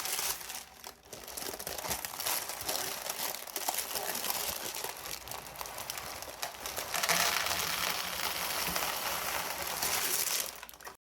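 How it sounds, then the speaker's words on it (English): Parchment paper crinkling and rustling as pie weights are poured out of a pie crust, a continuous dense crackling that runs throughout at moderate level with no talk. "I can just lift up the parchment paper and pour my pie weights back into this."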